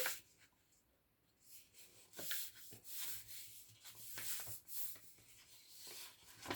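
A sheet of paper is folded and creased along its edge, giving soft rustles followed by a series of sharp rubbing swipes and crinkles, close and irregular, with no talk.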